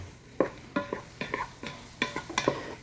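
Spoon working flour into hot grease in a Ninja Foodi pan, soft rhythmic scraping strokes repeating about every half second over a faint sizzle.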